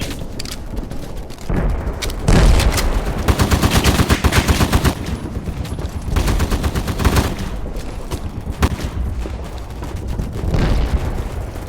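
Rapid automatic gunfire and single shots from a first-person shooter game set in a war between British and German soldiers, loud and close, in dense bursts with brief pauses, no talk.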